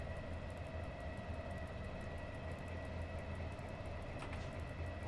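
A Pendolino train in the SimRail video game, stuck behind a cargo service, giving a steady low rumble with a faint tonal whine, even and continuous, with no voices.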